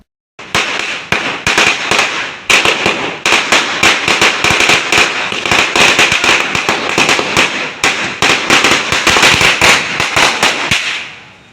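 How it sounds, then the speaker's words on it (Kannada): Rapid strings of sharp firecracker bursts crackle nonstop for several seconds, loud and close, with dense overlapping pops before fading at the end, set off by a crowd celebrating a film release outside a cinema hall. "ಅಲ್ಲಿನ ಸ್ಥಳೀಯ ಯುವಕರು ಪಟಾಕಿ ಸಿಡಿ ಸಲ್ಲಿಸಿ ಸಂಭ್ರಮಿಸಿದರು"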